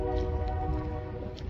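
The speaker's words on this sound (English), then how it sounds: "there's a train." A train passes as a truck driver walks outside, with a sustained horn-like tone over a heavy low rumble of rolling rail cars, loud and continuous.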